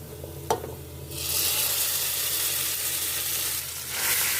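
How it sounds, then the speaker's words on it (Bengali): Taro leaf mash dropped into hot oil with panch phoron, a single soft thump followed by a loud broad sizzle that swells and holds steadily close by, dipping briefly near the end. "এই পর্যায়ে আমি এখন কচুর ভর্তাটা দিয়ে দিব"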